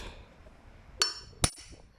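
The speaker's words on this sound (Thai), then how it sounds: "จากนั้นเราก็ย้ำนะคะ ย้ำเหมือนเดิม ตัวครอบตอก ย้ำลง" A rivet cap on the handle of a woven basket is tapped down twice, two sharp, bright metallic taps about half a second apart, close and clear over a quiet background with no voices.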